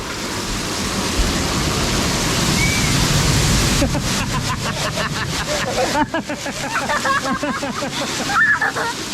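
At a water park, rushing water roars continuously, then a heavy pouring torrent with rhythmic splashing bursts in partway through, loud and close, with a voice talking over it.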